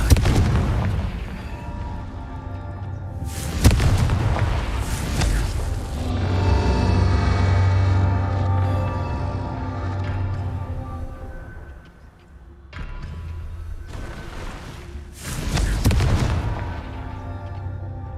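Confringo blasting spells in Hogwarts Legacy go off as several loud booming explosions with rumbling tails, spaced a few seconds apart over a low droning game soundscape.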